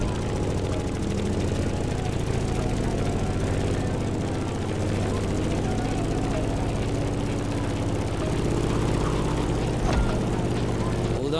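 Grumman F-8F Bearcat propeller fighter in the racing game The Crew Motorfest, its piston engine droning steadily and loud throughout with a dense, even tone, and a faint knock or thud near the end.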